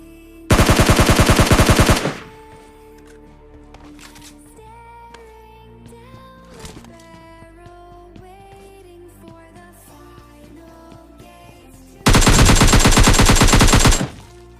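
Loud automatic gunfire from a shooting video game rattles in two long bursts, one near the start and one near the end, with a quieter stretch of game sounds and music between them.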